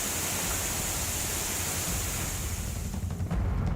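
Floodwater from heavy rain in Uttarakhand rushes past in a loud, continuous, close roar of turbulent water, deep enough to submerge vehicles, with no voices.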